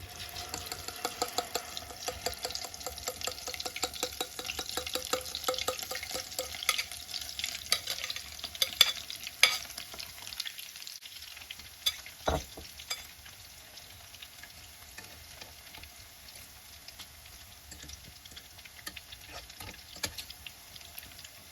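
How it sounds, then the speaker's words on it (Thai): Coriander omelette mixture frying in hot oil in a pan over medium heat, a soft continuous crackle and sizzle with small spits and pops, fairly quiet and easing off toward the end. "เราก็ ใส่ ไข่เจียวของเราลงไปทอดได้เลยนะ"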